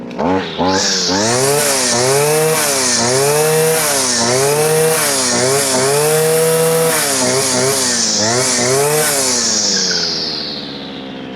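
An EFCO DSH-400T engine-powered grass cutter running loud and near, its two-stroke engine revving up and down repeatedly in rising and falling waves before winding down at the end.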